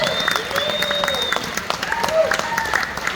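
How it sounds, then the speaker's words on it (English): An audience in a middle school hall applauds a row of students from an 8th grade winter band concert, a short burst of close, scattered clapping with some cheering and voices over it. "Would you please stand and accept applause from your friends?"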